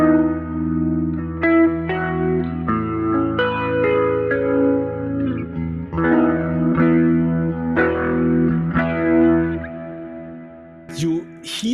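Growling, distorted electric guitar tone from a Kemper Profiler with a rotary speaker effect, heard as a run of sustained, swirling chords and notes with heavy modulation and ambience, alone and fairly loud, ending in a few quieter scratchy strums.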